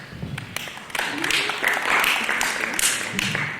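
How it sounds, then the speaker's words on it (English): Round of applause from an after-prom audience at a hypnotist show, moderately loud and steady, with voices mixed in among the clapping. "Let's give another big round of applause."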